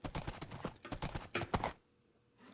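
Hooves of a white horse clip-clopping in Minecraft, a quick rapid patter of hard clicks that stops abruptly, close and loud with no talking.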